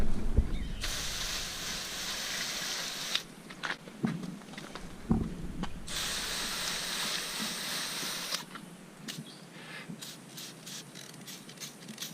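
Bursts of hissing spray as cleaner is sprayed onto car wheels, two long blasts with short pauses and faint knocks between, close by, with no talking.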